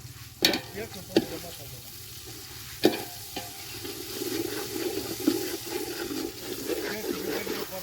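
Ginger-garlic paste, onion and turmeric sauté in a pan, a soft continuous sizzle broken by a few sharp scraping stirs of the spoon, fairly quiet.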